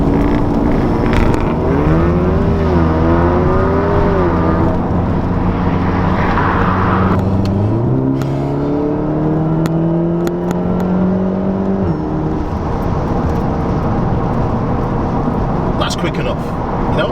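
Volkswagen Golf R Mk7 with an APR Stage 2 tune at 400 bhp accelerating hard through the gears, the rising and falling engine note steady and close, with someone talking over it the whole time.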